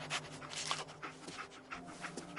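Dogmeat, a dog in a video game, pants in quick rhythmic breaths close by, fairly quiet throughout with a faint whine.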